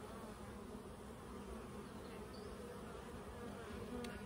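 Honeybees swarm around an open hive during a transfer from a nucleus box into a full hive, making a dense, steady, close buzz that holds throughout with no talking.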